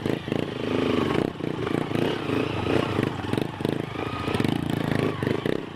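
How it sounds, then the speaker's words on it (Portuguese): A motorcycle engine labors under load while climbing a slope, a steady mid-pitched drone with uneven surges and some clattering, fairly loud and close throughout. "Agora o mano vai voltar na frente pra ver se a moto dele sobe ali."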